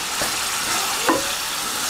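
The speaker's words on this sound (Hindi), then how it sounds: "अब इसमें हम डालते हैं कटी हुई टमाटर" Chopped tomatoes dropped into sizzling oil with frying keema masala, a loud continuous sizzle with a brief splash and stir partway through.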